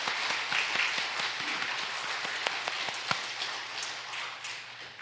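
A congregation at a Korean church service claps after a worship song. The applause is moderate and fairly distant, with a thick patter of hands and a few louder individual claps, and no one speaks over it.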